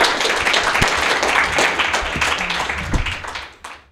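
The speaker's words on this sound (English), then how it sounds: "Let's have a big round of applause for our panelists." An audience at a Bitcoin panel at Keenevention 2014 applauds the panelists, with dense clapping from many people close by that gradually thins and fades out near the end.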